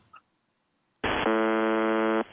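A recorded buzzer sounds once, a loud harsh steady tone holding for over a second before cutting off, preceded by a brief faint blip and near silence.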